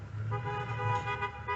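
Two vehicles pull up to a rural property, their engines a steady low hum close by, with a faint horn-like tonal whine riding above the rumble and no talk.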